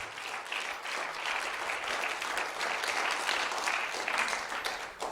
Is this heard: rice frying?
no